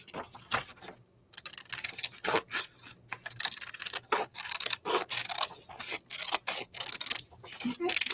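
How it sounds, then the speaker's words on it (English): Scissors cutting paper for a card-making craft project, a close run of crisp snips and rustles in uneven bursts with short pauses between cuts, and no talking over them. "So I'm just going to cut."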